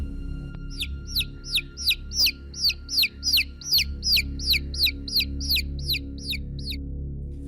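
A chicken calls in a fast, evenly spaced series of sharp, high chirping notes, close and distinct over a low steady rumble, near a cemetery in East Java.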